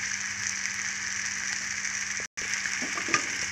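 Steady sizzle of food frying in oil in a pan, a continuous close hiss with a faint low hum beneath and a few small pops and stirring clicks near the end.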